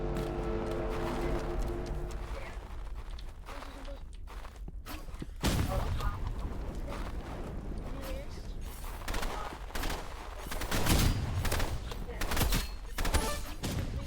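Rapid gunfire bursts and sharp shots from a rooftop position in the video game Rivals, with loud cracks repeating irregularly over a dense background of game noise while players talk.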